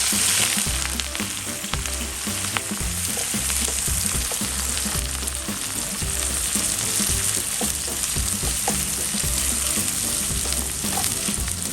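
Shallots fry in hot oil with a steady, close sizzle and crackle that runs unbroken and loud throughout, with no talking.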